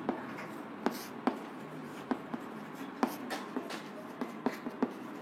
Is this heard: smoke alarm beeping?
no